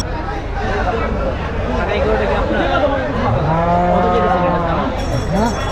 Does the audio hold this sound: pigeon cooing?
no